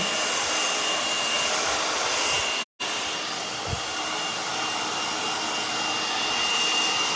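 A hair dryer blows loudly and steadily throughout with a broad airy whoosh, cutting out for an instant partway through before resuming at the same level.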